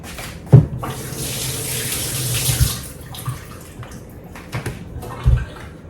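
Tap water runs into a kitchen sink while an onion is rinsed, a steady close splash broken by a few sharper thuds.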